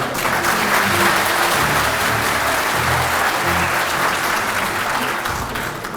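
A packed crowd at a HÜDA PAR candidate introduction rally claps and cheers for the Bingöl candidates: loud, dense and continuous applause with low rumbling voices beneath, easing slightly at the end.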